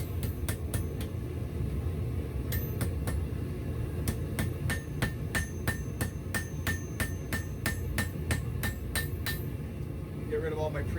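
Hammer blows forging hot steel on an anvil, flattening the bar and drawing out a taper, ringing sharp strikes in quick regular runs with brief pauses, over a low steady forge roar.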